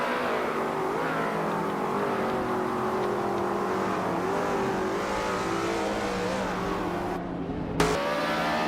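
Race cars battle closely during a race, their engines holding one loud, continuous revving whine that rises and falls in pitch, then a sharp burst just before the end.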